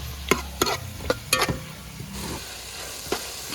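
Onions sautéing in a pan for district-style chicken curry, with a quiet sizzle under a few sharp spoon scrapes and clacks against the pan, close up and without speech.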